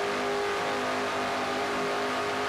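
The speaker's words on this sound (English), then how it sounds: "watch that and listen and that Pontiac, and he'll floor the throttle on that Pontiac here." Pontiac stock car in a NASCAR-style racing video game at full throttle, a dense continuous engine roar with steady harmonic whine, loud and unbroken with no talk.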